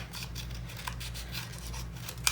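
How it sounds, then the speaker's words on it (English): Scissors blade scraping and roughing up the cut edge of paper during a scrapbook album craft project, a soft continuous rasping just audible over a steady low hum, with a sharper snip near the end. "I'm just taking the edge of my scissors and roughing the edge of that up so it's not so smooth"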